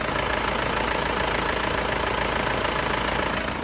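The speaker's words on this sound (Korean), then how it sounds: "엔진 소리 한번 들려드리려고 엔진룸도 이렇게 한번 열어봤습니다" A Mercedes-Benz E-Class idles with its engine bay open, giving a loud, steady mechanical hum with a fine rhythmic ticking texture that stays constant throughout, with no voices.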